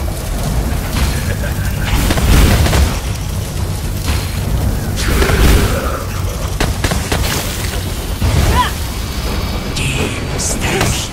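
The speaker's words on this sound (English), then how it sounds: "Something blew up." Booming explosions and rumbling blasts from the fantasy video game Lichdom: Battlemage fill the clip loudly and continuously, layered with sharp magic-like bursts.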